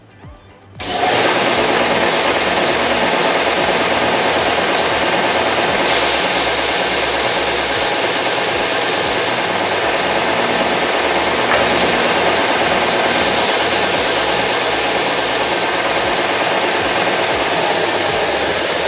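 Horizontal edge sander on a combination sander, with a piece of wood stock held against the belt: a loud, continuous abrasive roar that starts after a second and runs steadily throughout, with no talking.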